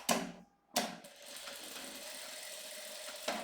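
A sewing machine runs a diagonal seam joining two bias fabric strips face to face, a steady mechanical whir after two short sharp knocks, fairly faint and close, with no talk.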